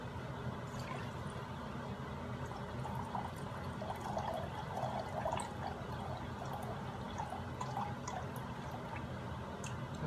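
Distilled water poured steadily into a glass measuring cup, a continuous close trickle and splash with faint drips, running unbroken throughout.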